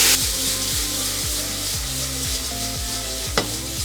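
Shrimp frying in oil crackle with a steady sizzle while a utensil scrapes and turns them in repeated strokes, close and moderately loud.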